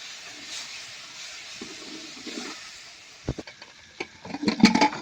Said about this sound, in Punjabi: ਤੇ 2 ਮਿੰਟ ਆਪਾਂ ਹੋਰ ਭੁੰਨ ਲਾਂਗੇ ਮਸਾਲੇ ਨੂੰ